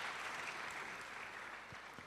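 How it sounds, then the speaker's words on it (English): Audience applause at a public lecture honouring Makerere University, a steady wash of many hands clapping at moderate distance throughout, thinning slightly toward the end. "a hand clap for Makerere University"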